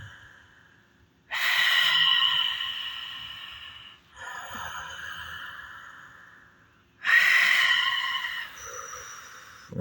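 Slow, deep breaths drawn and pushed out through the mouth during Ujjayi breathing practice: three long, airy exhalations close to the mic, each fading gradually, separated by brief quiet pauses, with no talking.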